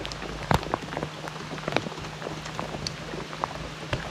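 Steady rain falls on an outdoor fishing spot, a dense wash of patter with scattered sharper drops striking nearby surfaces, no voices.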